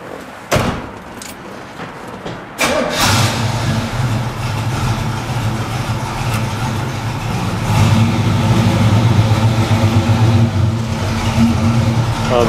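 A 1940 Ford DeLuxe hot rod: a door thuds shut, then the engine fires up into a loud, deep, steady rumble that builds as the car pulls away and keeps driving, close and dominant.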